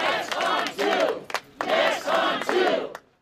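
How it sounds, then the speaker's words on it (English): A small crowd of demonstrators shouts rhythmic chants outdoors in Minneapolis on a gusty fall day, loud bursts of massed voices separated by short pauses. "a small but spirited crowd withstood a gusty fall day to send a message."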